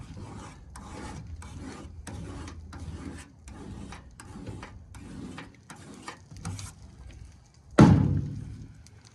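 A hand file is stroked repeatedly across a chainsaw chain's cutters to sharpen it, giving a steady run of about ten close, rasping strokes in even rhythm, ending in a louder scrape and clunk.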